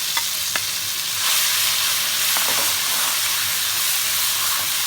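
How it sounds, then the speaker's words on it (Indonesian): Spice paste ground with oil sizzles and hisses steadily in a pan as it is stir-fried for a tempeh filling, with occasional soft scrapes and taps of a utensil, close and moderately loud. "Kita tumis sampai agak layu, sampai harum."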